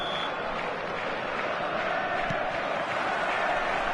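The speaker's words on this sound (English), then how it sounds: "The stadium is full of noise and energy." Crowd in a packed stadium in a PS4 football game sends up a steady, dense roar, a constant wash of noise with a brief high beep near the start.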